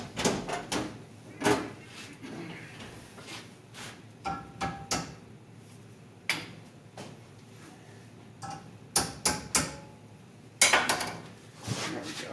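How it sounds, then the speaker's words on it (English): A tiny hammer tapping a steering rack part being built and straightened: scattered sharp metallic taps in irregular bursts, some in quick runs of several hits, close and moderately quiet with pauses between. "I gotta give it a little bit of a smack with my tiny hammer"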